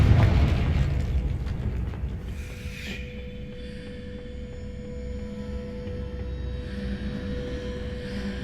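A Confringo spell explodes in the Hogwarts Legacy video game, a loud, dense boom that bursts at the start and then fades into a long rumbling tail with a steady tonal hum, no talking.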